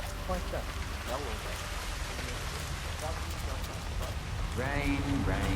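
Steady rain patters on surfaces in the video game Hitman III, a constant close wash of drops, while people talk over it throughout.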